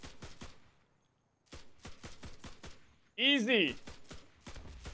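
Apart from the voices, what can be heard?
M1 carbine gunfire in a video game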